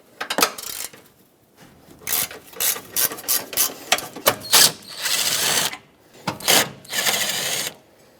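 A socket ratchet loosening and backing out two 12mm bolts during a starter replacement on a 2012–2017 Honda Accord: bursts of rapid clicking ratcheting separated by brief pauses, close up, with no talking.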